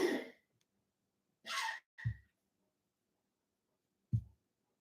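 Lois, a dog just awakened, lets out a few short, raspy coughing bursts separated by silence, with a couple of low, thumping hacks, close and fairly quiet.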